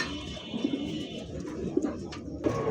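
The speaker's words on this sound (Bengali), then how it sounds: "এটা হচ্ছে মাদি কবুতর।" A female pigeon gives several soft, low coos in short bursts close by, set against a quiet background with faint chirps from other birds.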